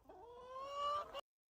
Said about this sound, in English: aren't chickens just so adorable?